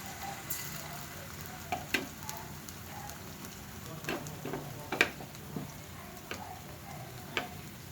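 Vegetable pakoras of potato and pointed gourd frying in hot oil, a steady close sizzle with scattered crackles, pops and the occasional stir or tap of a utensil throughout.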